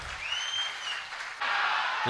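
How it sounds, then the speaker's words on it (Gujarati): An audience at a live comedy show breaks into applause for two film-studio men, Dhaval and Munabhai. The clapping swells suddenly near the end after a quieter stretch with a thin whistle-like tone. "આ બે ભાઈઓ જે ઊભા છે ધવલ અને Munabhai movie maker film studio એમને પણ જોરદાર તાળીઓથી વધાવો"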